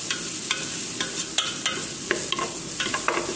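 Sausage sizzles steadily in a frying pan, with sharp scraping and stirring clicks from a utensil scattered irregularly over the constant hiss.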